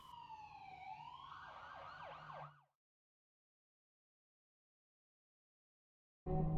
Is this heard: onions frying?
no